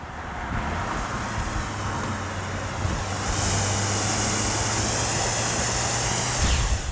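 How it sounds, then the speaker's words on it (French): A steady, loud five-cylinder diesel engine drone with a low rumbling hum that rises in intensity partway through, like a diesel under load. "son 5 cylindres diesel est le plus généreux en sensations"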